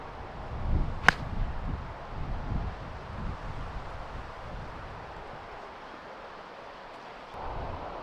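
A single crisp golf ball strike with a gap wedge on a professional tournament course, one sharp click against steady wind noise and faint outdoor rustle.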